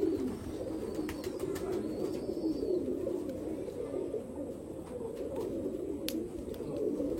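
Pigeons cooing indoors, a low, continuous murmur of soft overlapping coos, with a few faint clicks and small sounds above it and no talking.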